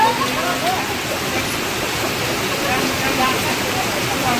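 Heavy rain pours down in Siddhpur with rainwater rushing, a dense, steady hiss filling the scene at close range throughout.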